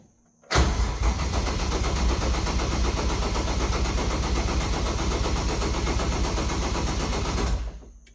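A 1JZ-swapped BMW E36 drift car engine is heard at close range as a steady, dense mechanical rumble for about seven seconds, starting abruptly and then cutting off.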